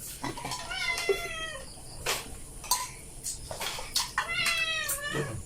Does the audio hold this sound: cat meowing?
yes